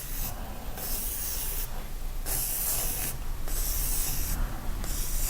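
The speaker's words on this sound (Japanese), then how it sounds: "鉛筆で大まかな色を塗る場所を決めていきます" A pencil sketches on paper to mark out colour areas for a 12-part watercolour colour wheel. The scratchy, hissing strokes come close up in repeated bursts with brief lighter pauses between them.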